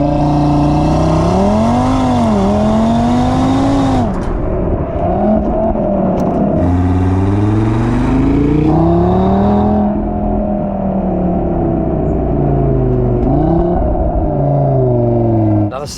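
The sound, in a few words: sports car engine revving at top end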